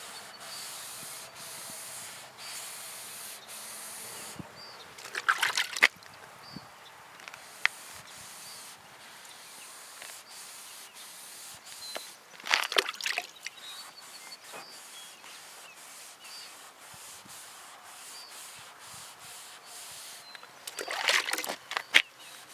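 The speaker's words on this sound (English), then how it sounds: "wet everything down pretty good to start with, and begin sanding." Sandpaper scrubs a wetted car headlight lens in straight, overlapping passes, giving a soft, steady wet rubbing. Three louder bursts of scrubbing or water spray stand out, with quiet stretches between them.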